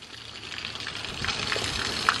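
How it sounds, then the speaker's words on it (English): Heavy pouring rain during a storm at a horse paddock, a dense, steady hiss and patter that holds at an even, fairly loud level throughout with no talking. "it's pouring rain."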